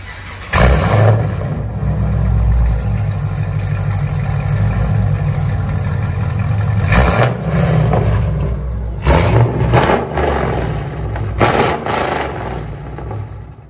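Straight-piped dual exhaust on a 2010 Chevy Camaro SS with a 6.2L V8, revved hard up close: a loud, deep sustained roar with several throttle blips and surges near the end.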